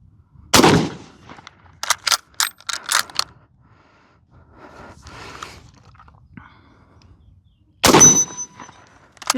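A Carcano surplus military bolt-action rifle fires at an outdoor range: two sharp, loud gunshots several seconds apart, with metallic clicks and clanks of the bolt being worked between them.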